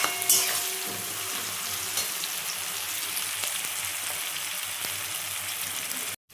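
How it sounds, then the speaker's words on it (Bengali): Onions frying in a pan while being stirred, a steady hiss and crackle with scraping stirs scattered through, moderately loud and close, cutting off abruptly near the end. "আমি পেঁয়াজটা কিন্তু নেড়ে নিচ্ছি বারবার, তাড়াতাড়ি ভাজাটা হবে।"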